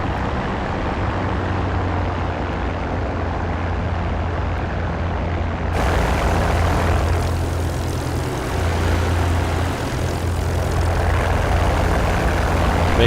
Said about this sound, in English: After you get the engine started, you want to throttle it back